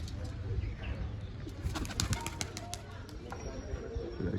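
Pigeons coo softly beside a loft, low murmuring calls with a few brief wing flutters, quiet and close.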